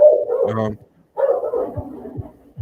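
A dog barks nearby in short bursts, mixed with a person talking over it; the barks come loud and close.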